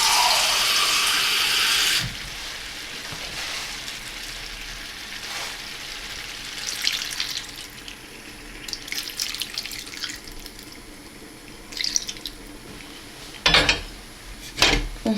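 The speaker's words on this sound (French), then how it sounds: "Là, on va rajouter un petit peu d'eau." Water pours steadily for about two seconds into a chicken tagine with olives, followed by quieter clinks and handling of the clay dish and utensils.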